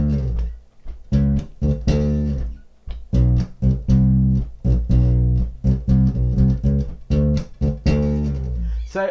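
Bass guitar playing a four-bar bass line in D, a punchy run of rapid plucked notes with brief gaps, loud and close with no talking.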